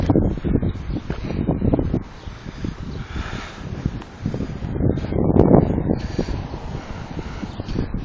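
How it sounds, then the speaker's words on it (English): Strong gusts of wind, up to around 58 mph, buffet the microphone with a roaring rush in Martinsburg, Pennsylvania, with flags flapping, rising and easing in waves across the whole stretch. "the wind's starting to pick back up a little bit because look at the flag"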